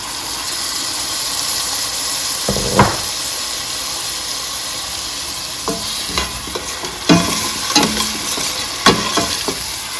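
Chopped tomatoes tipped into a pan of frying oxtail: continuous hot-oil sizzle broken by a splash as they land, then repeated scraping and clattering stirs.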